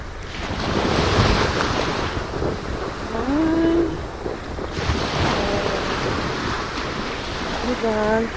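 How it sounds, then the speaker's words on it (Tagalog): Big ocean waves surge along the north coast, a loud continuous wash of surf and wind buffeting the microphone, with a voice briefly heard talking over the roar. "I think there's a big waves coming, Dad."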